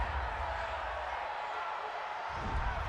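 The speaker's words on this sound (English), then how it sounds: "this crowd does not like that call" A stadium crowd at an NFL game, Washington Redskins against Carolina Panthers, reacts with steady displeasure to a roughing-the-passer penalty call. The broad, distant roar holds throughout and swells slightly near the end.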